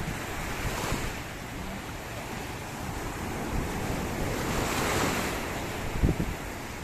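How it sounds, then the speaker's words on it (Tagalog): Strong sea waves surge and break at a Cavite beach, a continuous rushing wash with wind buffeting the microphone and a sharper thump near the end. "Ayan ah, lakas ang alon."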